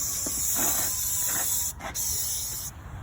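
Heavy-duty oven cleaner sprayed from an aerosol can onto an LS engine, a steady close hiss running nearly continuously with two short breaks where the nozzle is released.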